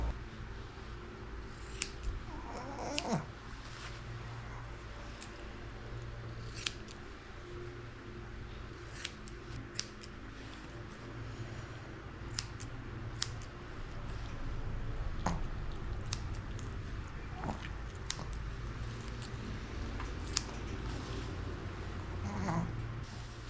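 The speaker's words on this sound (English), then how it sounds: "Go ahead and finish shaving her face," Scissors snip repeatedly and closely while a Shih Tzu's face is trimmed around the eyes during grooming, with short irregular cuts over a steady low hum and faint animal shuffling.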